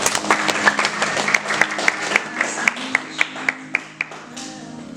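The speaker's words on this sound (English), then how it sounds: "please give her a round of applause" An audience at a talk claps steadily, a dense patter of applause with a few louder individual claps standing out near the front.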